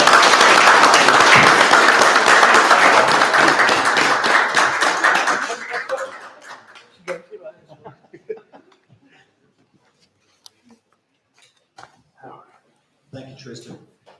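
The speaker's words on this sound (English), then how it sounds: "How about a round of applause?" Dense applause from an audience at a special commissioners court meeting fills the first six seconds, then fades into scattered claps, chuckles and voices.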